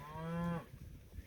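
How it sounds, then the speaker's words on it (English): A single drawn-out Red Angus cow moo, loud and close, lasting about half a second before fading into wind and low rumble on a windy day. "There's my old lead cow"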